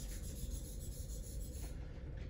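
A straight razor stroked back and forth across a convex hone makes a continuous close rubbing, rasping scrape with a faint high whine, steady throughout and heard alone.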